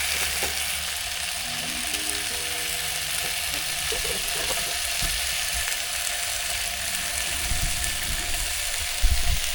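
Food sizzling and crackling in a hot pan on a barbecue, a steady hiss with occasional pops and faint scraping, close up with no talking.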